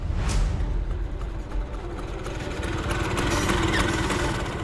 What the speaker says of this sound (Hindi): वो देखो स्कूटर की आवाज